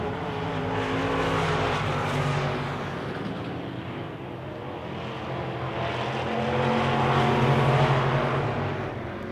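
Wissota Midwest Modified race cars roar around a dirt track on the final lap of a feature race, a dense, continuous engine drone that swells and fades as the pack passes, without talk.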